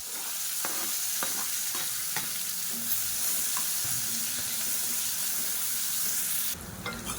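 Chopped small onions frying in hot oil with dried red chilies and a pinch of asafoetida, a steady broadband sizzle with occasional stirring scrapes, close and continuous, no talking.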